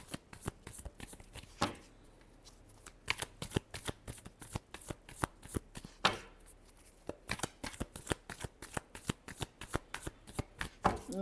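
A deck of tarot cards is shuffled over and over, giving rapid crisp riffling flutters and slaps in a fast steady rhythm, close and clear, with no one talking.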